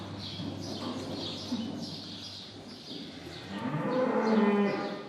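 Dairy cows on a farm low several times at close to mid distance, deep drawn-out moos with faint birds chirping in the background.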